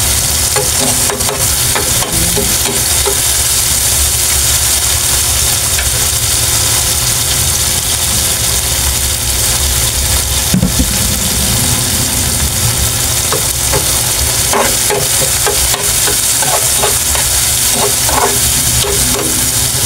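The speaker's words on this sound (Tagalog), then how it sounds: "ang purpose lang naman po ng pagigisa ng ricado ay para po mabango yung munggo" Aromatics for mung bean stew sizzle steadily in a hot pan, a dense continuous frying hiss with small scattered pops and stirring scrapes, fairly loud and close with no talking.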